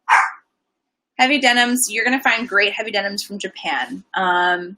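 A pet dog gives one short, sharp bark indoors, then falls silent while someone talks at length close by.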